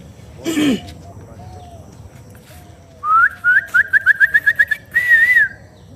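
A person whistles an imitation of a bird call heard around villages. A rising note leads into a rapid run of about ten bright chirps, then a short warbling tail, loud and close against a quiet background.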